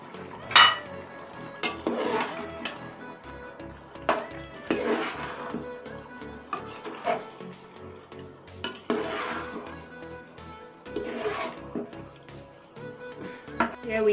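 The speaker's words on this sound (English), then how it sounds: "I'm going to stir this first before I add the next." Beans stirred in a metal cooking pot while making a Cameroonian white bean dish: repeated scraping and clinking of a utensil against the pot in irregular strokes, close by and fairly clear, with no speech.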